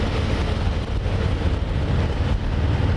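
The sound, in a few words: Harley-Davidson Fat Boy motorcycle riding on the freeway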